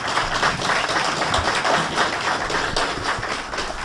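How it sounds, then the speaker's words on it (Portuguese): Audience applause fills the hall at a Brazilian conference session, a dense, steady wash of many hands clapping at fairly close range for the full stretch, with no talking over it. "Salve de palmas."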